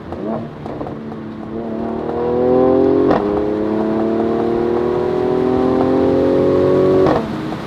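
A Mercedes-AMG C43 Cabriolet engine revs up loudly and steadily, with two clear, slow gear shifts where the pitch drops and then climbs again.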